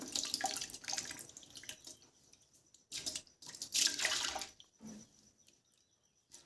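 Rice being washed in water in a pot, with bursts of splashing and sloshing broken by short pauses, quiet and close, with no talking.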